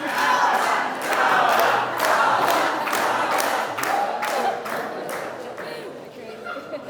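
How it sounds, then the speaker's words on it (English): Wedding guests cheer loudly during the groom's speech at a couple's wedding, a dense, sustained crowd roar of shouts and whoops with bursts of clapping that holds steady for several seconds and eases slightly toward the end. "I didn't expect so much cheering."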